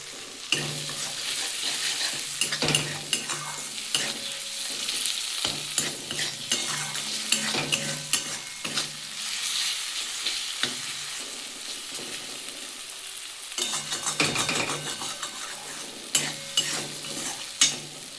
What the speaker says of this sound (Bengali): আমি একটু ভালো করে এটা কষিয়ে নিই